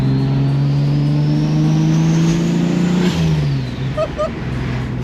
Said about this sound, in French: Le bruit d'un turbo en vrai c'est ouf hein